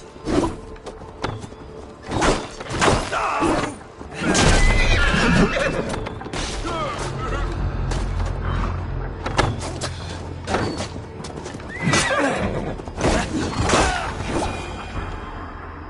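Horses whinny and neigh repeatedly in a video game night scene, with clopping hooves and heavy thuds mixed in, loud and close across a busy stretch of game sound.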